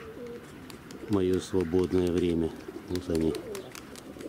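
Pigeons coo in a few throaty, rolling calls nearby, with a person speaking briefly alongside.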